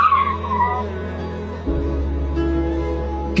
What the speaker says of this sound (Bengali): এইভাবে কেউ বাইক চালায় নাকি?